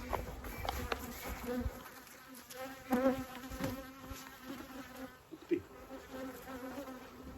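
Buckfast honeybees from a large colony buzz at an open hive, giving a continuous close droning hum with individual bees passing near.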